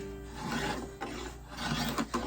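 A hand tool slices fine shavings off a hickory bowl blank, giving a steady close rasping scrape in repeated strokes with short pauses between, no talking.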